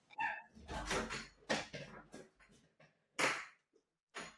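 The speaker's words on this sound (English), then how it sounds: "Dogs going mad." Dogs bark and yip excitedly close by, several sharp barks and whimpers in quick succession, loud against a quieter background.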